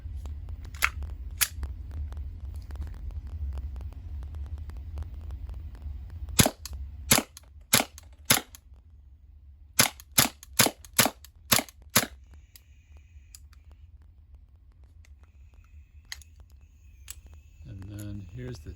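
A WE Mauser M712 airsoft pistol fires a 10-round magazine as sharp, snappy cracks, a couple of single shots and then a quick irregular string, over a low background hum with a faint clatter near the end.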